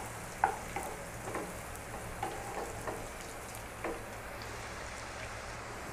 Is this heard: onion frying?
yes